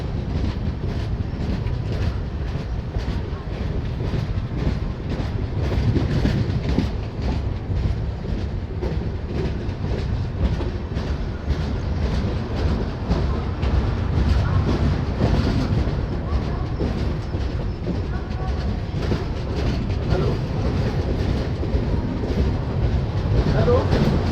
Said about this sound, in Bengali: সকাল প্রায় সাড়ে ছটার সময় ট্রেন মির্জাপুর স্টেশন এন্টার করছে